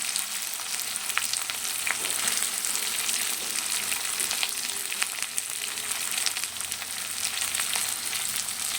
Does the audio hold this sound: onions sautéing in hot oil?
yes